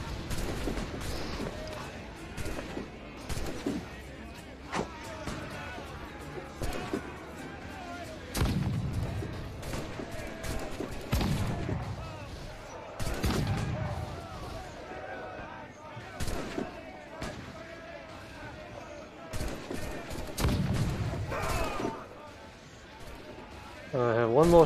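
Ship cannons booming in Assassin's Creed IV Black Flag, repeated heavy blasts spaced across the stretch amid near-constant shouting and talk.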